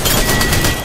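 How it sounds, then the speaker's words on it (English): Enemy gunfire in Apex Legends, a loud, dense burst of rapid overlapping shots lasting under a second. "enemies are shooting at me"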